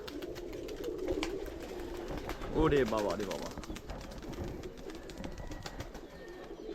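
Pigeons coming out of a loft, soft cooing under steady background noise, with a brief burst of a man's excited exclamation partway through.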